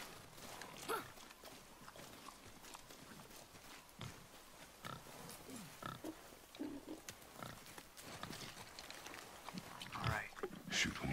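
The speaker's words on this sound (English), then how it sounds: "I knew it was a boar." A boar in the God of War video game grunts and snuffles quietly amid faint footsteps and rustling, short irregular grunts scattered through the scene, with voices speaking at times.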